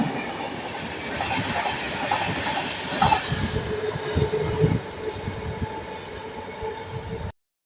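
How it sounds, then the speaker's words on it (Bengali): The Hazarduari Express, train 13113, rushes past close by, a loud rumbling roar with rhythmic clattering of wheels over rail joints and a faint squeal, then abruptly cuts off. "সামনে দিয়ে ছুটে আসছে তেরো হাজার একশো তেরো হাজারদুয়ারি এক্সপ্রেস"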